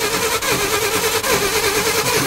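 Ford F350 U-Haul rental truck, abandoned, with a flooding engine cranking steadily without catching, a continuous loud mid-pitched churning held close up with two brief dips.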